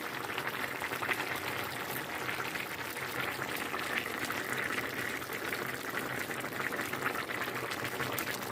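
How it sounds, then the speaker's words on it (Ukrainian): Steady, continuous bubbling of a cabbage borscht dressing boiling in a pot, a dense seething hiss with no pauses and no voices. "Так ось як гарно кипить."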